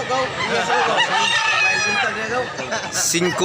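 Roosters at a gamefowl market in Mantalungon, Barili, Cebu crow loudly and overlap one another, with several drawn-out calls in quick succession and a sharp squawk near the end; voices mingle in the background.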